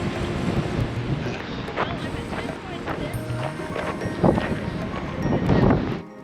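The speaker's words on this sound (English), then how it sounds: "This is the lake I'm used to with this wind." Strong wind buffets the microphone beside a mountain lake in the Canadian Rockies, a steady roaring rush with gusts that swell toward the end, while people talk over it.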